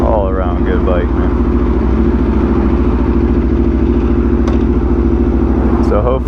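Aprilia RSV4 motorcycle engine running steadily close by, a deep, dense rumble holding level throughout with a brief rev flare near the end, while a person talks over it.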